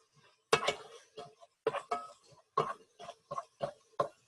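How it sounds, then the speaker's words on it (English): A spoon stirs a pot of chicken and eggplant stew with basil, coriander and pork bouillon, making a series of sharp, irregular clinks and scrapes against the metal, close and spaced apart in a quiet room. "We're stirring."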